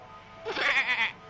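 A small cartoon goat gives one clear, wavering bleat lasting under a second. It is close and loud over a faint background, and there is no talk.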